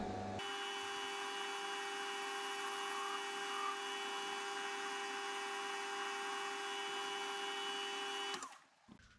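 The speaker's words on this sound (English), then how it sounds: "Put a chamfer on these shoulders." A Warco 240B metal lathe cutting a chamfer on the shoulders of a steel toolpost mounting stud, giving a steady, loud machine whine with a sustained tonal hum that runs unbroken for about eight seconds before stopping abruptly.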